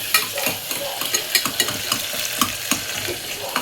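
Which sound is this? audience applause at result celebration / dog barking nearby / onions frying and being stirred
onions frying and being stirred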